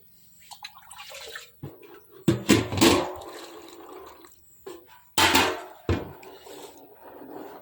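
Freshly picked fruits, muddy from the ground, are rinsed in a container of water at home, giving bursts of splashing and sloshing with quieter dripping and handling sounds between them.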